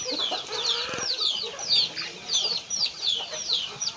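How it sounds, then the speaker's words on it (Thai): Several chickens cluck in quick repeated bursts, close by, with soft background noise. "มีทั้งเป็ดมีทั้งไก่หมดตัวอย่าง"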